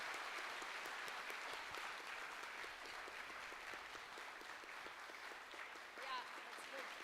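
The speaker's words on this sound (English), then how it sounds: "Please give him a big round of applause for his enthusiasm." Audience applause at a national-level conference, a steady wash of clapping that runs throughout at moderate level, with a voice partly audible through it.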